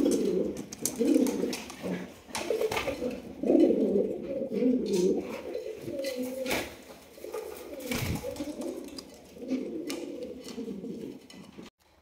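Fancy racer pigeons coo in soft, repeated rolling calls, fairly close and moderately quiet, with a few brief knocks and rustles between the coos.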